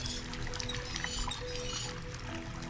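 Water running from a sink in a horror puzzle game set in an asylum: a steady pouring stream with bright splashing and trickling, continuous and fairly close, with no talk over it.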